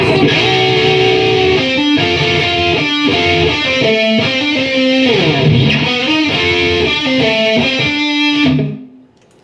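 A distorted electric guitar plays the lead line of a solo, with sliding and sustained notes, loud and continuous, cutting off abruptly near the end.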